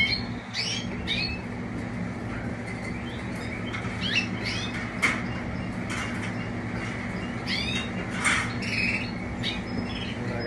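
A small pet canary squawks and chirps repeatedly while being treated with apple cider vinegar, sharp calls scattered over a steady low hum, close and clear.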